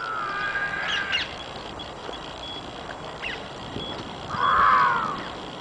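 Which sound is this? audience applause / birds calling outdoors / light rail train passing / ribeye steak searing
birds calling outdoors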